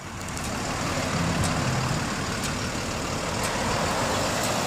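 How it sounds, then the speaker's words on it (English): A truck rumbles past on a road with a broad, steady engine and tyre roar that stays loud throughout, with a few faint high ticks over the noise. "I don't know what that truck is."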